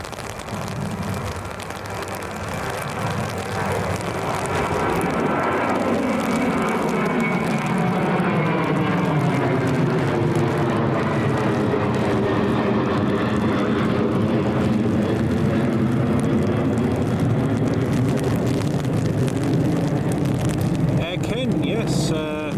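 A KLM airliner climbs out from Newcastle International Airport on a windy, rainy day, its engine roar sweeping steadily across the sky and holding loud throughout, with voices chatting underneath.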